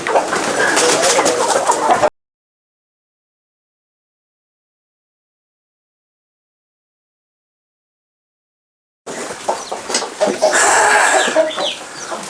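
Native chickens cluck and call on a small farm, with dense overlapping fowl sounds near the microphone in two bursts separated by a long silent gap.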